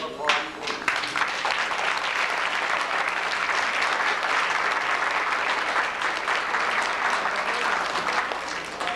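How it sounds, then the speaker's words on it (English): Audience applause fills a 1998 International Club fashion show, a dense, steady wash of clapping that starts abruptly and holds at full strength throughout before easing slightly near the end. "One round of applause, please."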